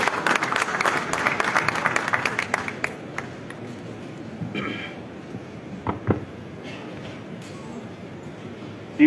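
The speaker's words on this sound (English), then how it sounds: "Can we welcome him with a huge round of applause?" An audience at a jewellery trade show event applauds loudly for a few seconds, the clapping then thinning into scattered claps and room murmur.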